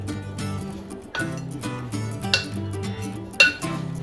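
Brown sugar and pie spice are stirred in a bowl for an apple crisp, with a spoon clinking and scraping against the dish in irregular close strokes and taps.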